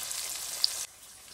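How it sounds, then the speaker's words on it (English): Fish frying in a pan for a Guyanese-style fried fish dish, giving a steady close hiss and crackle of hot oil with one brief pop, then dropping to a quieter sizzle. "once my fish is frying"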